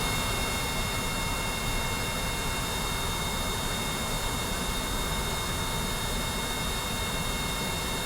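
Steady, loud roar of spacecraft engines in Kerbal Space Program, a continuous broadband rumble and hiss with whining tonal lines, unchanging and alone without talk.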